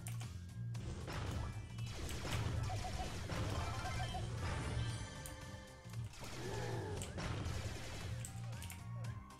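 Heavy club strikes smash an object in the Brawl Stars video game, with repeated crashing whacks over a dense, loud mix of game music and effects that runs without a break.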